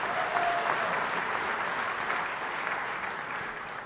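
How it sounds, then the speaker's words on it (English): An audience at a Heads of State summit breaks into steady, sustained applause for prize winners, a dense clapping wash that fades slightly toward the end. "Please give the winners another round of applause."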